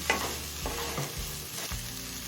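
Mixed vegetables fry in a pan for oats pulao, a steady close sizzle with a few soft stirring scrapes, no voices.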